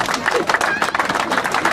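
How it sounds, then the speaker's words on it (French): An outdoor crowd at a podium ceremony on the Grand Colombier breaks into brisk applause, with people talking over the clapping. "Je voudrais qu'on applaudisse."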